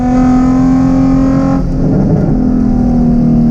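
A car on a race track drives past loudly, its engine note steady and droning before shifting pitch as it passes and carries on, close and dominant throughout with no talking.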